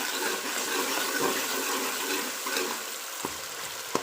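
Masala for baingan bharta fries in a kadai with a dense, close sizzle, while a spoon stirs and gives a few soft knocks near the end; no voices.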